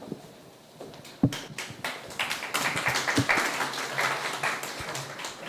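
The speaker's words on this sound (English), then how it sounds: "Big round of applause again for him" An audience gives a round of applause after a talk at a hospital event, starting with a few scattered claps, then swelling into steady, moderately loud clapping from many hands.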